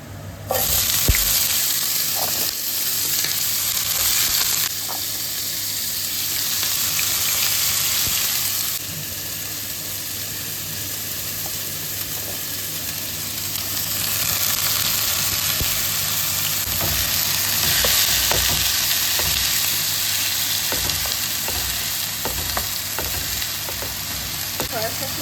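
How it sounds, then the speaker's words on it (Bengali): Chicken fries in hot oil in a frying pan, giving a loud, dense, close sizzle that holds steady throughout with slight swells and occasional faint clicks. "চিকেনের মধ্যে দিয়ে তারপর ফ্রাই করবো ফ্রাই প্যান গরম হয়ে গেছে তেল দিয়েছি"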